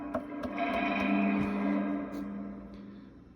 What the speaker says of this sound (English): Oh, you can hear the reverb tank.